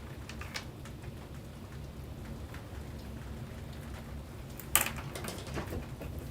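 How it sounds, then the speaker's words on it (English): Heavy rain falls steadily as a dense, even hiss throughout, with scattered louder drops and one sharp crack partway through, heard from indoors at a moderate distance. "it is raining really hard"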